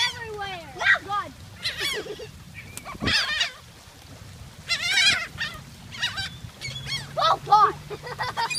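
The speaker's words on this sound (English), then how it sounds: "There's seagulls everywhere." Seagulls call at a beach feeding spot in Long Beach, with several close, shrill squawks and mewing cries coming in quick overlapping bursts over a low background hum.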